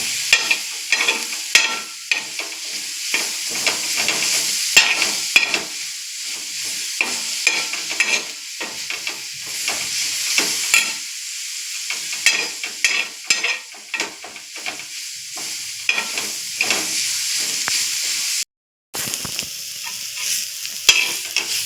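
Onions fried in oil in a pan and stirred until reddish: steady close sizzling crackle with frequent scraping stir strokes, continuous for about twenty seconds apart from one brief gap near the end.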